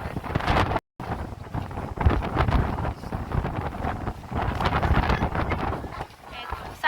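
Strong wind roars across the microphone aboard a moving ferry in the Visayas, Philippines, loud and constant, with a brief dropout and the low rumble of the boat underneath.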